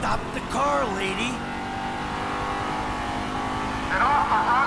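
A car engine revs and whines up and down in Grand Theft Auto 5, sounding game-like, with a short squeal, alongside brief voices.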